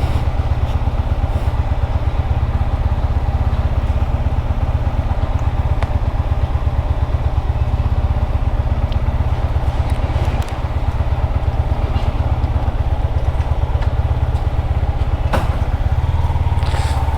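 A Yamaha MT-15 motorcycle engine running after a push start, a loud, steady close idle throb that holds evenly throughout with faint clatter.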